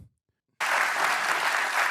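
Audience applause bursts in suddenly after a brief silence and holds as steady, dense clapping from a crowd, loud and close, continuing to the end.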